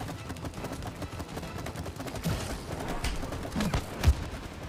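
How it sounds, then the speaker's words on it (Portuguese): Rapid gunfire in the co-op video game It Takes Two, a steady stream of moderate shots with a few louder hits near the end, over a busy game soundscape. "Dá um tiro lá nas costas."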